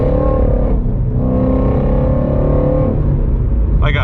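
Shelby GT350 V8 rumbles steadily from inside the cabin during a relaxed drive on a quiet road, a dense low drone that shifts slightly in pitch as the car cruises, with no voices.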